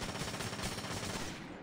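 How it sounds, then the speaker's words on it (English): Rapid automatic gunfire from the Splinter Cell Conviction video game, a dense, sustained burst of shots fired up close to knock out lights, with no talking. "Let's shoot those lights so they don't see me."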